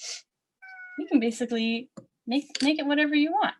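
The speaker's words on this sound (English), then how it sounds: "That's my cat Honey." A pet cat named Honey meows several times in a drawn-out, wavering cry indoors, close and clear, interleaved with a person speaking.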